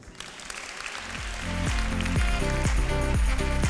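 A political meeting crowd for Droite Unie in Bourg applauds, the clapping building up and then falling into rhythmic unison claps with a steady beat, fairly loud and continuous.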